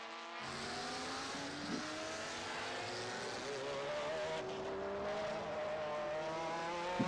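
Ferrari and Porsche race cars in a classic car race at the Estoril circuit drone past at high revs, several engines layered in a steady, loud roar with rising and falling pitch over seven seconds.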